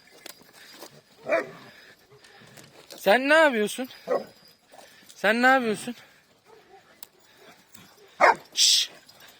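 A few short barks and yips from Turkish Anatolian Kangal shepherd dogs mixed with a voice speaking loudly and calling out, plus a whimpering cry near the end.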